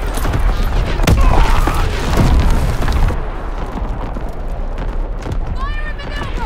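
Artillery shells explode in the World War II shooter Call of Duty WW2, with heavy booms and bursts rolling through a battlefield while a soldier's voice shouts briefly over the blasts.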